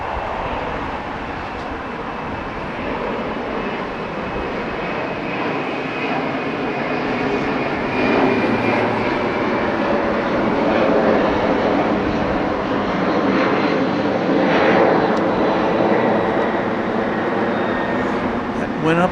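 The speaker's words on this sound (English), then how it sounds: "This is the A300 going to Santa Ana." An Airbus A300 jet airliner takes off at Los Angeles International Airport, its engine roar building into a loud, sustained rumble and whine heard from nearby, with people talking over it.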